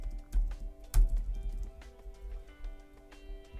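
Soft, steady clicking of computer keys being typed in irregular bursts, close by and quiet, with no voices.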